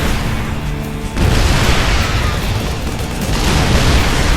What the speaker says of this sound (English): Siege tanks do damage pretty fast.